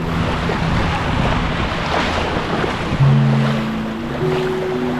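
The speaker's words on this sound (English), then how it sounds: "It's not easy this walking in water" Continuous splashing and sloshing of shallow sea water while wading, under steady wind rumble outdoors, with no talking.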